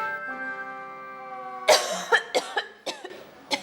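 A sustained tonal hum gives way to a string of harsh coughs, several sharp bursts in quick succession, close and loud.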